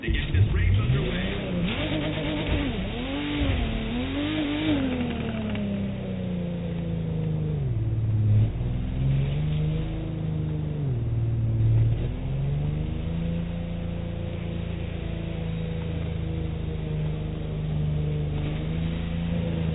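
Race car engines in The Crew 2 on Xbox Series X, a steady droning engine note that rises and falls as the cars rev and shift, with people talking throughout.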